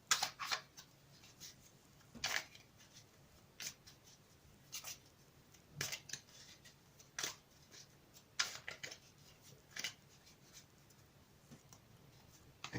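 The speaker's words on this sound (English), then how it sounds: "So I've already shuffled the cards, but I'll shuffle them again" Radiant Rider-Waite tarot cards being shuffled by hand at close range, with quiet separate riffles and taps coming in irregular bursts against a near-silent room.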